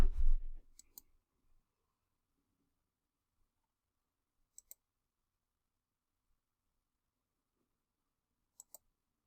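A few sharp, isolated mouse clicks in database software, spaced several seconds apart, follow a brief low thump in an otherwise quiet room.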